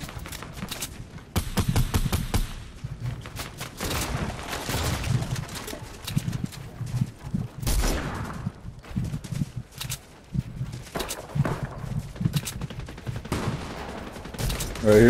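Gunfire in a Fortnite battle royale duos match: repeated bursts of rapid shots, some near and sharp, others farther off, scattered through game noise.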